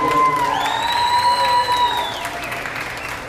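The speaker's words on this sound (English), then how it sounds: "Let's give one more round of applause." Applause and cheering from the crowd at a beef cattle show, with clapping under a loud sustained whoop and shouting voices that fade after a couple of seconds.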